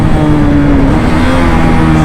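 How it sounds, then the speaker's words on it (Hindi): A Yamaha R15 V4, Bajaj NS200 or KTM Duke 250 motorcycle engine held at full revs on the rev limiter during a street race, a loud, steady, close buzzing drone that stays flat for about two seconds. "ये देखो लिमिटर हिट हो गई"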